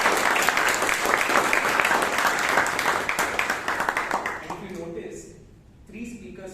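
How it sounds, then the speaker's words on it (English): An audience at a Toastmasters club meeting in Bangalore claps warmly for several seconds, the applause fading out before a voice begins speaking near the end. "So a round of applause for him, please."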